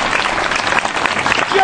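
A church congregation applauding the Lord: dense, steady clapping from many hands, loud and close, filling the whole moment with a crowd's cheering mixed in.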